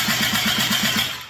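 Yamaha Nytro snowmobile engine swapped into a Polaris RZR XP, cranking over with a quick, even rhythmic chug of about ten compression pulses before catching, loud and close.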